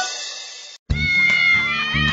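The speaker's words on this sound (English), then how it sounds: "I wonder what those kitty cats are up to." Cartoon kittens in the Curious George Pet Day Care video game give two clear, close meows in quick succession, the second over soft game background sound.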